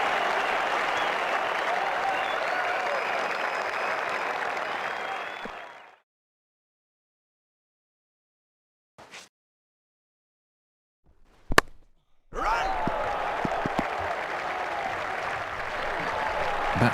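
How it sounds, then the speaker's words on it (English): A cricket crowd at an India v Australia Test match applauds a shot with loud, sustained clapping and cheering. The sound cuts to near silence, then a short burst, and the applause resumes just as strongly. "The crowd really enjoyed that one."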